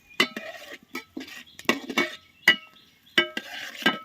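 Onions and curry leaves being sautéed in oil for a chicken semi gravy, with a spoon scraping and clinking against the pan in quick separate strokes over a soft sizzle.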